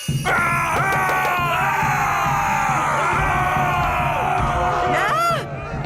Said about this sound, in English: Running around and shouting.